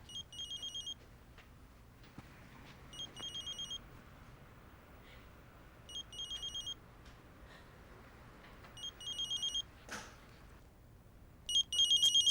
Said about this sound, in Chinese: 电话响了，你去听啊